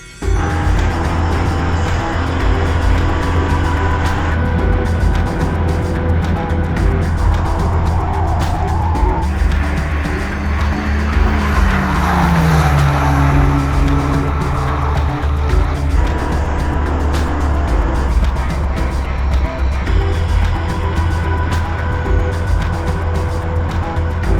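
A BMW XM Label, a 738-horsepower hybrid SUV, runs hard up the Pikes Peak hill climb, its engine roaring steadily and close with rising and falling revs and tire squeal, loud throughout with no talking.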